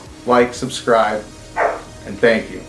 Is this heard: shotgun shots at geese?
no